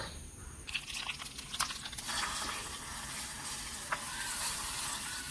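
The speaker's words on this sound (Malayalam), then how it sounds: "ഇനി നമുക്കിത് വറുത്തിടാം കടുക് വറുത്തിടാം" Mustard seeds sizzle and crackle in hot oil for tempering a banana stem curry, a steady close hiss with small pops throughout.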